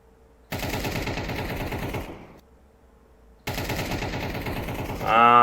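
Rapid automatic gunfire in the video game CS2, fired while the player jumps and lands, in two sustained bursts of dense, loud shots with a short quiet gap between them and a louder swell at the end.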